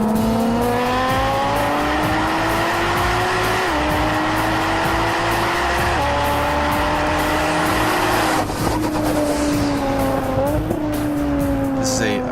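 A 1400-horsepower Nissan GT-R with a bored and stroked 4.3-liter twin-turbo engine, roaring loud and steady as it revs up through gears with brief shift dips and some tire squeal.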